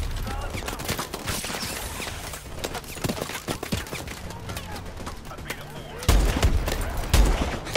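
Repeated sniper rifle shots in Call of Duty: Advanced Warfare, irregular reports amid busy gunfire and game noise, with a heavier thump near the end and voices talking over it.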